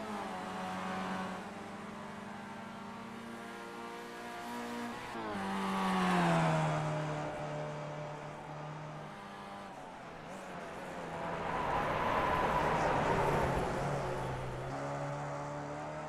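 Race car engine on throttle in a sim racing game, CanAm Challenge at Canadian Tire Motorsport Park; a steady, loud engine note climbing and falling through gear changes, with a couple of swelling acceleration surges and no talk.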